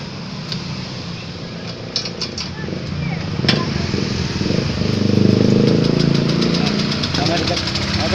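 Honda Vario scooter with a radiator coolant fault, its engine cranked and brought to a close, loud idle, a rough chugging hum that swells slightly, with someone talking over it.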